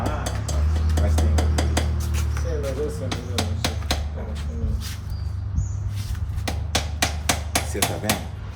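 A hammer strikes repeatedly at close range, sharp clacks coming in irregular bursts, with a low hum and some background noise underneath.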